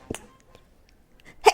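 A single short sneeze bursts out near the end after a small throat sound at the start, close and fairly loud, indoors during a chatty talk show.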